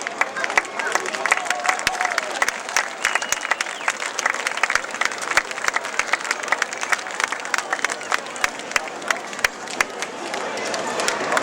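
Crowd applause at a speedway after a race, a sustained wash of clapping with sharp individual claps standing out and a murmur of crowd voices underneath, steady and fairly loud throughout.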